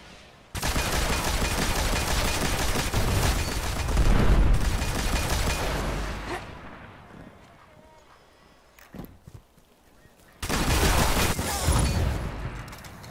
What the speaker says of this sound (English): The stupid fucking bullet driver shooting 3 bullets instead of 1.